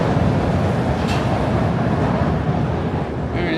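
An elevated train on Philadelphia's L line rumbles overhead in Fishtown, a loud, steady roar with wind buffeting the microphone throughout.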